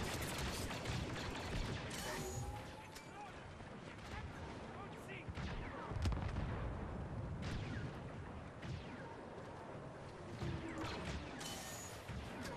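Blaster gunfire and explosive blasts in the video game Star Wars Battlefront II, a dense, continuous barrage of shots and booms throughout, with a voice talking over the game action.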